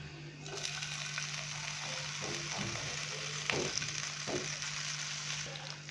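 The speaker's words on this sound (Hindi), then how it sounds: "इसी बर्तन के अंदर हम अभी बटर डालेंगे।" Butter melts in a cooking pot for butter garlic chicken and sizzles with a steady, even crackle, with a few faint utensil clinks and no talking.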